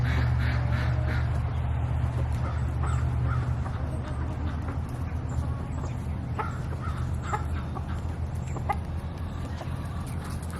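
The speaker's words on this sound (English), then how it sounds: "You see how big that rooster is?" Chicken and rooster calls ring out over a steady low rumble, with scattered clucks and caws across the scene, including a large rooster.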